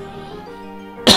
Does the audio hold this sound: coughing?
yes